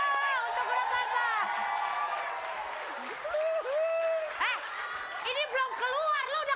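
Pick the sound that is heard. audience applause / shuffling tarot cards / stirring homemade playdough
audience applause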